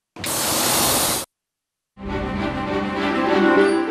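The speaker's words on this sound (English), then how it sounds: "You can hear the hiss as the compressed gas escapes." Compressed air escapes with a loud hiss from the brakes of a fairground ride. One burst lasts about a second, then silence, then a longer, rougher release that carries on to the end.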